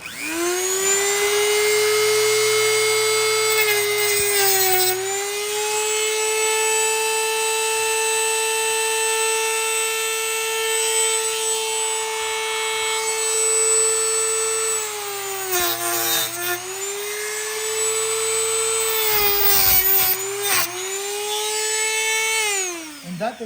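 A Dremel rotary tool cuts and sands wood on the underside of a small table being made into a TV stand, a loud, close, sustained high whine that dips in pitch under load and briefly cuts out twice.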